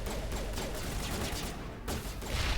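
Rapid gunfire in the video game Mass Effect, a dense, continuous crackle of shots under a steady game background, fairly loud, with a brief gap before the firing resumes.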